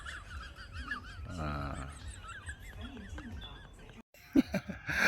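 A heron calls with honking, goose-like squawks over steady outdoor background noise, followed by a sudden loud burst of sharp cries near the end.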